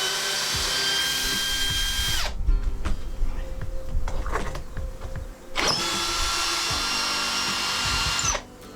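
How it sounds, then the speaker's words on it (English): A power drill whirs in two sustained loud bursts while backing out screws, with clanks and handling noises from the tool and workpiece in the pause between runs. "I'll remove all the screws before I start lifting."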